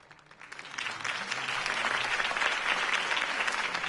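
Applause from a crowd in the Telltale Batman video game, a dense steady clatter of many hands that swells in the first second and then holds loud and even.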